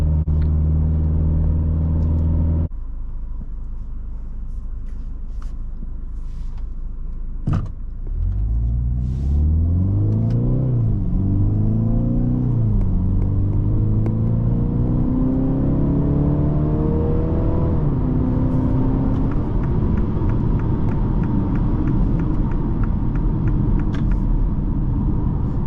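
A 2023 MINI Cooper Countryman S starts with a steady engine hum, then accelerates hard, its engine note rising and dropping through several quick gear shifts before settling into a sustained cruising drone, with no talking.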